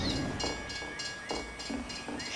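A train rolls past in the video game Team Fortress 2, a steady rumbling roar with rhythmic clacking from the wheels every half second or so, loud and continuous with no talk.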